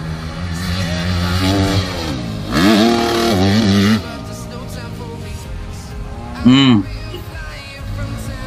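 A 250cc Honda CRF dirt bike revs hard during riding practice, its engine note rising and falling in repeated loud surges, with a short sharp burst of revving near the end.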